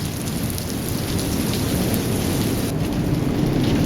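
Heavy rain pours down on a beach in a steady, dense hiss that stays loud and even throughout, with no voices.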